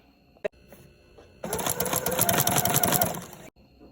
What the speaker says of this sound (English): then you're just gonna sew along here